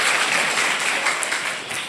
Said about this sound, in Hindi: अरे वाह, ताली बजा दो।